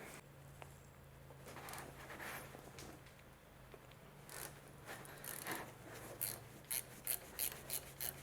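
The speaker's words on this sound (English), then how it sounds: "I'm just going to undo this tensioner and remove this belt." A ratchet loosens the belt tensioner on a VW Polo engine. It is quiet at first, then gives a short run of sharp clicking bursts near the end.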